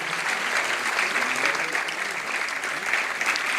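Audience applause at a ceremony where an honoree receives a shawl and memento, a steady dense wash of clapping filling the whole stretch at even loudness.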